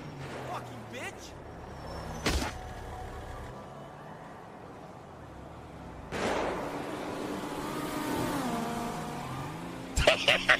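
A car in Grand Theft Auto drives with a steady engine drone that swells as it accelerates, broken by sharp impact bangs, while someone shouts excitedly over the action.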